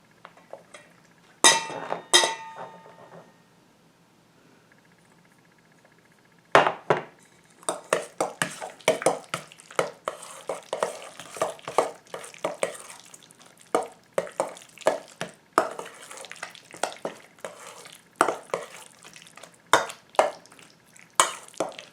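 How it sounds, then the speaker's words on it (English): Sausage and cheese dropped into a pot and stirred, with clinks of a spoon against the pot rim and scraping and dripping sounds that repeat in steady bursts after a short quiet pause. "We're going to add our ingredients here,"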